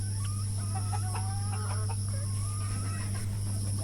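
Several desi hens on a farm with a mud floor cluck and murmur softly over a constant electrical hum, their short calls scattered and overlapping at close range.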